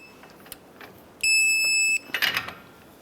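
A torque wrench signals as it tightens the upper ball joint nut to 40 foot-pounds on a 2011-2018 Ram 1500: a single steady electronic beep lasting under a second, close and clear, followed by a few faint mechanical clicks.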